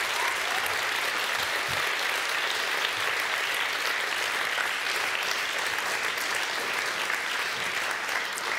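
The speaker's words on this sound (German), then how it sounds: "geben Sie doch gerne nochmal einen Applaus" Audience at a film festival event in Bremen gives sustained applause, a dense, uniform roar of clapping hands that stays steady and full for the whole stretch without any speech over it.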